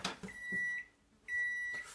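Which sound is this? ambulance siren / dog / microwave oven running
microwave oven running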